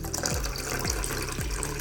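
Cooled boiled water splashes and gurgles steadily into a mixture in a container, with a few low sloshing surges as the liquid fills.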